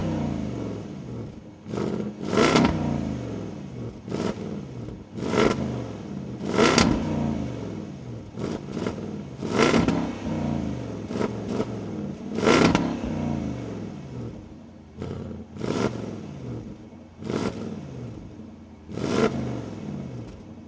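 Repeated sharp revs from the V8 in a 2024 Land Rover Defender 110 with quad exhaust tips, about a dozen short throttle blips that rise and fall in steady rhythm, close and fairly loud with no talk.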